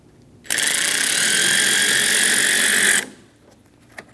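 A 10mm socket ratchet loosening the negative terminal on a car battery of a 2008-2015 Scion xB 2.4L, one continuous close, loud whirring click run of about two and a half seconds, then quiet.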